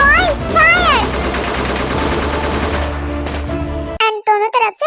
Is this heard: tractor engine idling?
no